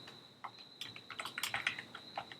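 Keystrokes on a computer keyboard come in irregular, close, crisp clicks, sparse at first and then a quicker flurry, with no voices.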